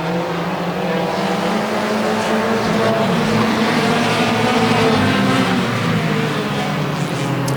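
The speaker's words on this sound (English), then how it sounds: "A lot of Chevy Cobalts are starting to make their way into Hornet racing. There's 2 on the track right now." Two Chevy Cobalt Hornet-class race cars circle the track in a heat race alongside Pontiac G6s, their engines a steady, continuous roar with slight rises and falls as they pass, loud and unbroken throughout.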